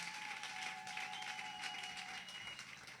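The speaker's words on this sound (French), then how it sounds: "Alors acclame très fort pour Jésus" Applause for Jesus from a church congregation, a dense, steady wash of clapping filling the whole moment with a faint sustained tone running beneath it.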